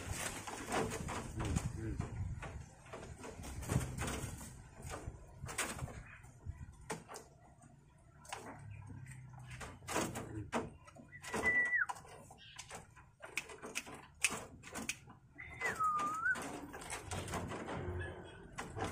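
An eight-year-old male Javan myna, or jalak kebo, kept in a cage and growing aggressive, gives sharp, scattered calls and clicks, with a couple of rising whistles, while someone talks nearby.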